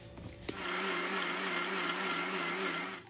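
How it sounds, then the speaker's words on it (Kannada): A mixer grinder starts abruptly after a brief pause and runs at a steady high whine, grinding batter with water in a mixie jar for jackfruit sweets, loud and close with no talk. "ಇದಕ್ಕೆ ಈಗ ನೀರು ಹಾಕ್ಕೋಬೇಕು, ಮತ್ತೆ ರುಚಿಗೆ ತಕ್ಕಷ್ಟು ಇದನ್ನೀಗ ಗ್ರೈಂಡ್ ಮಾಡ್ಕೋಬೇಕು"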